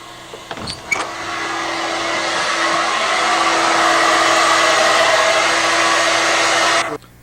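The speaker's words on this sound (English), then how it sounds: "Now we're switching over to the other type of hair dryer." A steady, high-pitched hair dryer whine runs continuously for several seconds after a couple of brief clicks, then cuts off abruptly near the end.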